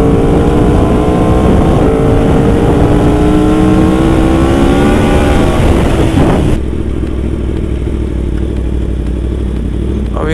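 Yamaha R1 sport motorcycle accelerating hard in Power 2 mode, a loud close engine howl climbing steeply through the revs for about six seconds before cutting back to a lower, steadier drone.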